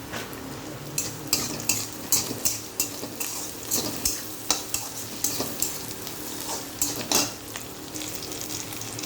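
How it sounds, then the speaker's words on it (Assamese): Small tingora fish frying with spices in a pan, Assamese style: a steady close sizzle with rhythmic stirring, the utensil repeatedly scraping and clinking against the pan. "এতিয়া মাছখিনি ভজা হ'ল, মছলা মাছখিনি ভজা হ'ল।"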